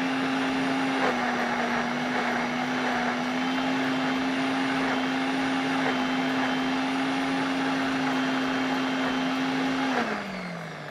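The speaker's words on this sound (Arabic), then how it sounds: "ونضربها في الخلاط" Kitchen blender whirring through a chocolate biscuit cake mixture with eggs added as the liquid, a loud steady motor drone running continuously close by, then winding down as it switches off near the end.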